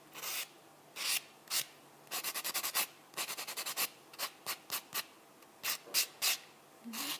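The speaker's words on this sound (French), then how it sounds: "Je reprends mon petit bloc blanc. Je vais matifier mon ongle." A white buffing block mattifies a fingernail after semi-permanent polish removal, rubbing in short, close, dry strokes. Bursts come singly and in quick runs, with brief pauses between them and no talk.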